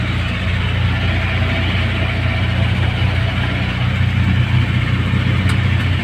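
A passenger jeepney's engine runs steadily while being driven on a road in Sorsogon, Philippines, giving a continuous low rumble and road noise that stays close and constant, with no talking.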